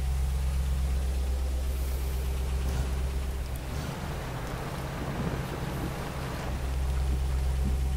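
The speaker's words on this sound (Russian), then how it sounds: "Вот, вот такой вот у нас ливень." A GAZ-53 truck engine in the Spin Tires video game drones in a steady low rumble during heavy rain, with a dense hiss of rainfall rising and falling over the running motor.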